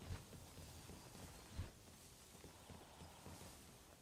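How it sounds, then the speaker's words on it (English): Soft, regular footsteps of a small mob walking in modded Minecraft, a low patter of steps with a couple of heavier thumps, fairly quiet and alone. "And it makes cute little walking noises."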